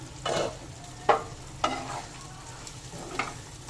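Chicken being stirred in a pan after simmering with yogurt and spices, with a few distinct scraping strokes over a faint, steady background.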